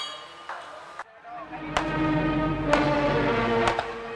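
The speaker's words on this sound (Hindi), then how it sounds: "रावण दहन से पहले आतिशबाजी का खेल दिखाया जाता है, जिसमें तरह तरह के पटाखों से आतिशबाजी की जाती है" Fireworks and firecrackers go off at a fair before the burning of a Ravan effigy: three sharp, loud cracks about a second apart over a steady crowd rumble, with a fainter pop near the start.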